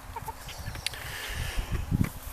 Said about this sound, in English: Look at the markings on her. She's a pretty chicken.